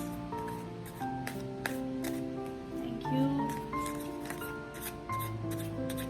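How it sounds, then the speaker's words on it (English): Tarot deck being shuffled by hand during a reading, soft papery riffles and slides at low volume under a steady tonal background hum, with a brief spoken phrase. "let's shuffle the cards."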